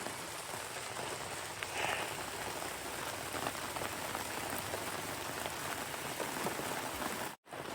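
Steady rain falls during a storm in Lake County, Michigan, a dense, continuous hiss of drops on surfaces with no voices, cutting out briefly near the end.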